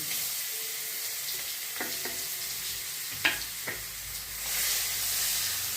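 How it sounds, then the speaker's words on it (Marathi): Onion sautéing in hot oil tempered with mustard seeds, cumin, asafoetida and turmeric, a steady close sizzle broken by a few sharp spoon clinks and scrapes, the frying swelling louder near the end. "आता याच्यामध्ये मी कांदा परतून घेणार आहे"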